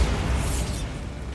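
Bombarda spell blast in Hogwarts Legacy, a single booming explosion with a rumbling low body and a short bright burst of debris, loud and close, then a fading tail.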